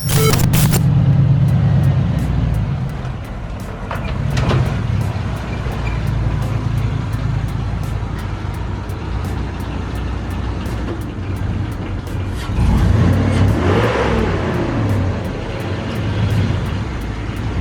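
A Chevrolet Suburban SUV's engine rumbles steadily nearby, swelling as it revs and shifts, with a low continuous drone throughout.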